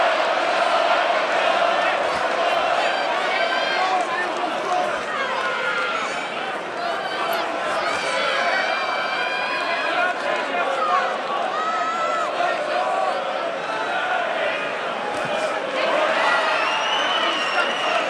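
A boxing arena crowd during a Regis Prograis versus Jack Catterall fight keeps up a loud, continuous roar of cheering and chatter, with voices talking over it throughout.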